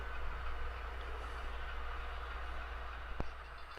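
A model train runs steadily on layout track, a continuous low rumble and rattle with one sharp click near the end.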